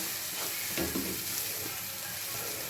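Ginger garlic paste fries in a hot pan with a dense, continuous sizzle and a few brief stirring bumps, loud and close with no voices.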